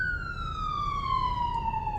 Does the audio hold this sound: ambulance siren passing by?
yes